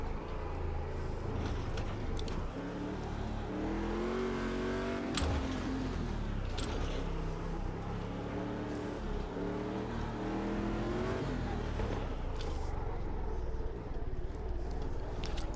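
Engines of USAC Stadium Super Trucks race around the Long Beach street circuit in Automobilista 2, with steady engine drone and rising, falling revs through shifts and corners, loud and close throughout.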